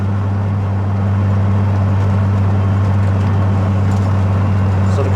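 Cabin drone inside a 600-horsepower VR6-swapped Toyota MR2 Spyder on the road, a loud, constant low engine hum with steady road and wind noise, no change in pitch across the stretch.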